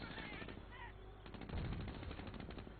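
BAR rifles in a strategy video game fire in steady rapid bursts, a dense, continuous rattle of automatic gunfire that runs under a thick battle din with no break.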